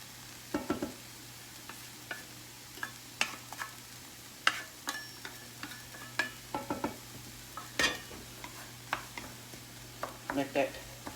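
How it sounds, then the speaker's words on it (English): Garlic being stirred into onions in a pan for a cowboy casserole, with a quiet, steady sizzle under repeated sharp scrapes and knocks of the spoon against the pan. "we're now going to take our garlic and get that mixed in"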